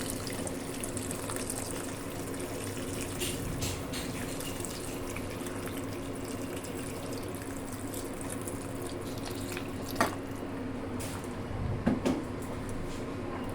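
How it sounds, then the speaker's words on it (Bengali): Hot water poured into a simmering paneer, soybean and potato curry: a steady, soft liquid wash throughout, with a couple of small clinks near the end. "এবার দিয়ে দেবো গরম জল"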